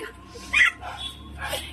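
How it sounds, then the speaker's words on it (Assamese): A dog barks in a few short yips in front of a house on a rainy day, mixed in with ongoing talk nearby. "কুকুৰেও ভুকি আছে"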